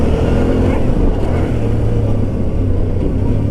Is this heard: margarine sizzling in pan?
no